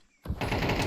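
Rifle gunfire from two rifles in a Counter-Strike match on the Ancient map, a loud dense burst of rapid shots starting sharply after a quiet moment and continuing steadily to the end.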